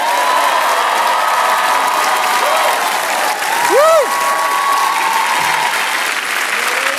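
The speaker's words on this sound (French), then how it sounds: "Je vous demande de faire un tonnerre d'applaudissements pour monsieur Mathieu Madénian." Thunderous applause from a live French TV comedy show audience in Pigalle for a comedian taking the stage, dense and loud throughout, with cheering and a few whoops rising above the steady clapping.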